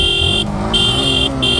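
A Yamaha MT sport motorcycle rides off with a steady, loud engine drone and a high whining tone that cuts in and out, close by and with no talk.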